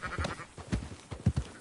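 In Red Dead Redemption 2, a scattered flock of sheep bleats in quick succession, with several short, close bleats overlapping across a second and a half and no talk over them.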